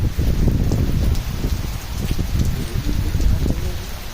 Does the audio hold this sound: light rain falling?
yes